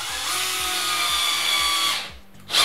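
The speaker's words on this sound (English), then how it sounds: "And then I just put some screws in." A power drill drives screws into a wall to mount a light holder, giving a loud, steady whirring run close by that stops abruptly near the end, with no speech.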